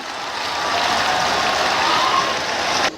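An audience applauds at a martyrs' remembrance ceremony honouring freedom fighters and their families, a dense, sustained wash of clapping that swells and then stops abruptly.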